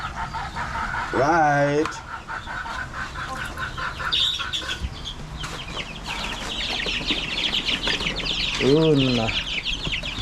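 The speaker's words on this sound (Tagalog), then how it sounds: "ang bilis lumaki ng mga sisiw." Chickens and young chicks clucking and peeping near and far in a farmyard, with louder harmonic calls around the start and near the end, under intermittent speech.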